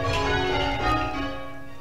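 Church bells of St Mary's, Eversley, Hampshire, ringing as a dense, loud wash of overlapping tones that sustains steadily through the short stretch, with no voices.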